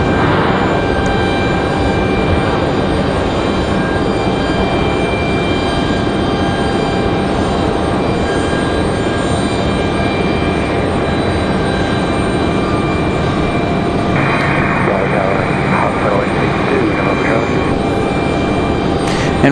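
A United Airlines jet from Dulles at Raleigh-Durham International Airport gives a steady, loud, broadband roar that fills the whole stretch, with a higher tonal whine joining in near the end.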